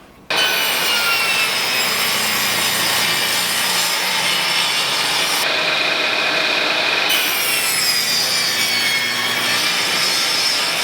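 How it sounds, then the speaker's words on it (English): A table saw on a crosscut sled trims about an eighth of an inch off the ends of pallet-wood boards, one steady loud whine of the blade cutting through wood for nearly eleven seconds, with no talking. "We're going to start just trimming off these ends, just about 1/8 of an inch off the end."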